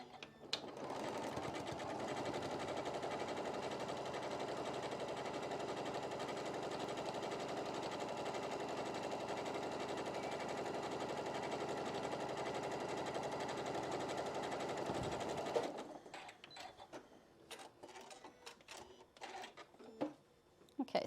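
A sewing machine stitches a decorative stitch along a double-folded apron pocket, running as a steady, loud mechanical whir for about fifteen seconds before stopping, followed by faint handling clicks.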